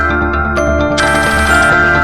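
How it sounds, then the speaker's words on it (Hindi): A phone ringtone plays loudly and close, a bright melodic tune with chiming tones that grows fuller toward the end. "इतनी रात को फोन क्यों कर रही है?"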